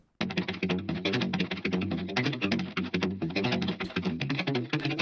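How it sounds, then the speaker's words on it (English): Octave-down guitar part sitting in the center of a mix, a dense, rhythmic run of quick plucked notes with a thick low layer, continuous and busy throughout. "And there's also this very interesting octave down guitar in the center"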